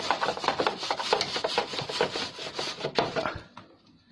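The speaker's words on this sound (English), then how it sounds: "Place the brush like this and clean it." A brush scrubs an air conditioner unit in quick back-and-forth strokes, a close, dry rasping rub that repeats rhythmically before trailing off.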